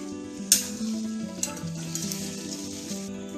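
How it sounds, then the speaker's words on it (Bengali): Carrots sizzling in hot oil while a spatula stirs them, a steady frying crackle with a sharp scrape near the start and lighter taps of the utensil against the pan. "তেলে দিয়ে দিচ্ছি ক্যারেট। এবার আমরা এটাকে খুন্তি দিয়ে নাড়িয়ে নিচ্ছি।"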